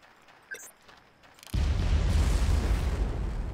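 A loud, sustained explosion from the Far Cry 1 cargo ship level bursts in suddenly after a quiet moment and roars on as a dense, rumbling wash with no talk over it.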